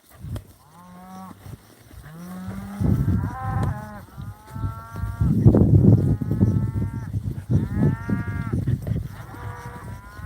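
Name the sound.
calves mooing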